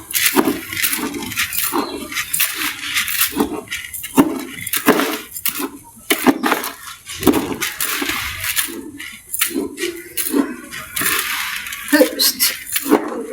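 Pet food is stirred in a bowl with a utensil, producing repeated close clinks and scrapes in a steady rhythm, with a voice talking over parts of it.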